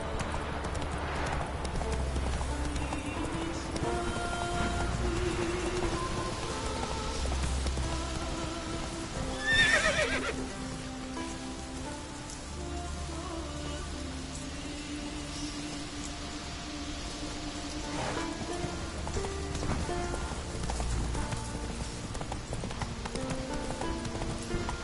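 Roach, a horse in The Witcher 3, gallops with a steady, close clatter of hooves that runs throughout, broken by whinnies and neighs along the way over a low background.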